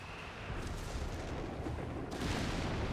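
Continuous rumbling artillery barrage in the real-time strategy game Company of Heroes 3, a dense wash of booms and battle noise that stays loud and steady throughout, growing slightly heavier toward the end, with no voices.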